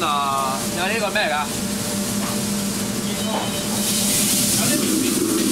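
Ugly fish pan-frying in just a little oil, giving a steady close hiss and sizzle that runs throughout while people talk over it.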